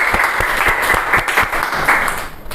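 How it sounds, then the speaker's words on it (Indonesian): Classmates in a school classroom applaud a student group returning to their seats, a dense burst of close hand claps with sharper individual claps poking through, steady for a couple of seconds before starting to thin. "Kasih tepuk tangan sama kelompok 2,"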